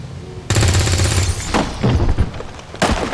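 Gunfire in the video game XCOM 2, a sudden loud burst of rapid shots with sharp cracks and booming impacts, followed by a few more scattered blasts.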